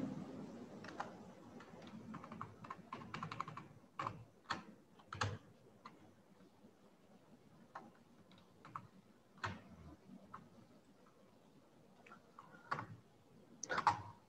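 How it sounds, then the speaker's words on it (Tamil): Typing on a computer keyboard while entering text in MS Word: soft, irregular clicks and taps at close range, with scattered sharper key strikes and pauses, all fairly faint. "டைப் பண்ணுவோம்"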